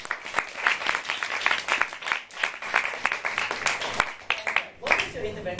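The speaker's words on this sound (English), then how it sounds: "give you a round of applause for Andrea" Audience at a forum theatre performance applauds a performer, brisk clapping of moderate loudness that continues for several seconds and briefly drops away before a final flurry.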